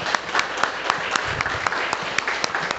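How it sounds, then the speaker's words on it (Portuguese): A church congregation applauds during a worship service, with dense clapping and a few sharper claps close by, steady across the whole moment. "uma linda salva de palmas."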